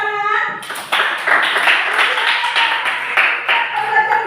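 Classroom applause after a lesson, a burst of clapping that starts abruptly and carries on unevenly with sharp individual claps, fairly close, with a brief voice at the start.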